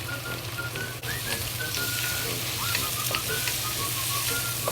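Cucumber and eggs fry in a pan with a steady, close sizzle and crackle throughout, one brief dip in the middle; a faint tonal hum runs underneath and no one speaks.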